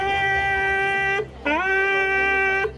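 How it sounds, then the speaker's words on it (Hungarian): A buffalo horn is blown in two long, steady, buzzy blasts separated by a short breath, loud and close. "Így szól a bivajkürt."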